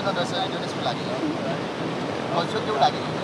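Fresh water flowing over the Surat causeway gives a broad, continuous rushing wash with gusty wind buffeting the microphone, steady and fairly close throughout.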